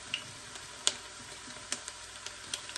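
Ginger sizzles gently in a pan while chicken wings cook for tinola. A soft, steady frying hiss carries scattered light crackles and pops, with no talking.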